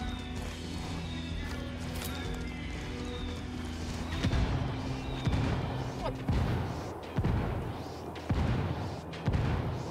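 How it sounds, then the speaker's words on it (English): Mortar fire in the video game Ghost Recon Wildlands, several heavy booming impacts arriving one after another in the second half over a low steady background rumble. "I called the rebels for mortar fire."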